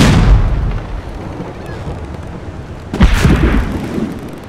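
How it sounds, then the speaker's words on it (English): A ship's cannon in The Adventures of Tintin video game fires with a heavy boom near 3 s, over a rumbling, noisy battle background that stays loud throughout. "Quickly! Fire the cannon!"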